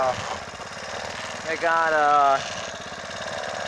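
A motorized bicycle's small engine buzzes during a windy ride, rising briefly into a higher revving whine before settling back. Someone talks over it throughout.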